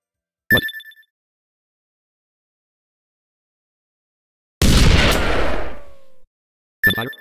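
Gunfire in the video game Bokurano Daibouken III, a sharp burst of shots with a rumbling tail lasting over a second, between short ringing electronic tones in otherwise silent stretches.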